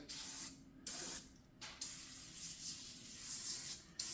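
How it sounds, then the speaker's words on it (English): Super Clean degreaser is sprayed from a trigger bottle onto plastic parts at a kitchen sink, in about five short hissing bursts separated by brief quiet gaps. "spray the stuff down, let it sit, coat it up really nice, gets in all the nooks and crannies"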